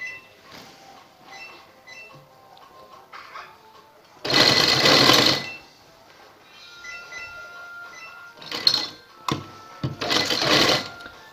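A sewing machine stitches piping onto a garment neckline, running in several short rattling bursts between quieter handling sounds, close up.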